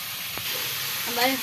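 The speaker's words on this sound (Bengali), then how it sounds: "গাছ উঠেছে মশলাটা ভালো করে কষিয়ে নেবো" Spice paste for a thin rohu fish curry sizzles and hisses steadily in a pan during sautéing, a close, continuous frying sound, with a brief voice-like sound near the end.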